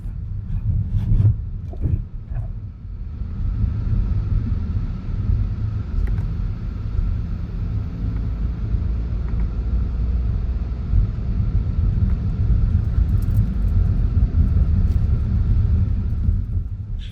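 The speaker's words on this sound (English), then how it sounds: "Right now we're driving on Elakahi Street" A car drives through the streets of Lahaina, Maui, giving a steady low rumble of engine and road noise close to the microphone, with a few brief knocks near the start and no speech.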